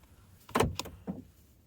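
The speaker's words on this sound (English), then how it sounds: "You start by getting in the car and locking the doors." A Nissan Micra's door locks actuate with a short mechanical thunk followed by a second clunk and a softer click, close by in a quiet cabin.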